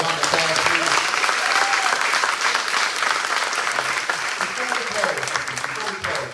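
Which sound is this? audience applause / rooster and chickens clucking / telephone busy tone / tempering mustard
audience applause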